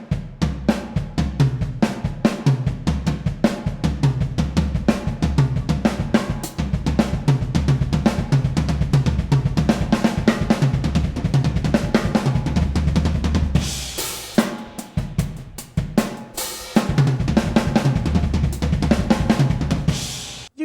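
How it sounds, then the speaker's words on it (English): Drum kit fill pattern with double bass drum kicks moved around the toms and snare, dense continuous drumming with cymbal crashes near the end, loud and busy throughout. "And then just move it around the drum kit a little bit."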